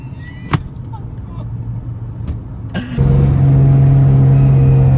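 A car driving in circles close by, its engine rumble rising and falling before swelling into a loud, sustained roar as it passes near.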